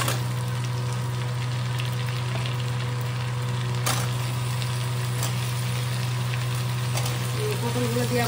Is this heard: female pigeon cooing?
no